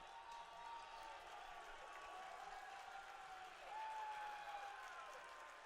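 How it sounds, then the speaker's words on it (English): Baseball crowd at English Field during a Virginia Tech home game against North Carolina, a steady broad roar of cheering and applause that swells louder near the end, with faint talk mixed in. "Andy, as you listen to that crowd, it is electric here right now at English Field"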